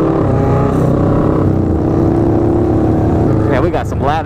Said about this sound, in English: we got some loud ass bikes